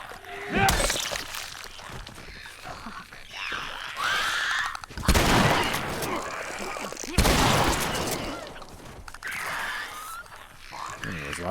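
Shotgun blasts boom in The Last of Us during a zombie fight, a few loud separate shots spaced several seconds apart, mixed with game effects and a voice talking.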